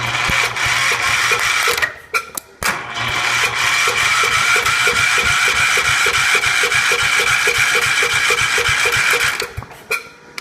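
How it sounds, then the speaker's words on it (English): Cub Cadet 125 lawn tractor engine, freshly swapped in, cranking and firing up close by: a loud, steady rapid chugging with brief dropouts near two seconds and again near the end. "And now we touch the positive on the starter, and it should fire up just like last time."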